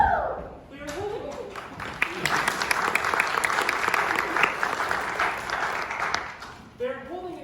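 An audience at a Missoula Children's Theatre production of The Snow Queen in Mayville, 2021, bursts into loud applause and cheering that swells and holds for several seconds. Sung voices can be heard before and after it.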